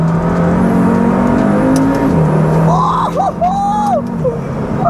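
A KTM X-Bow GT-XR being pushed hard on an open road, its engine a loud, steady, close roar with rising revs and gear changes, and a whine layered over it.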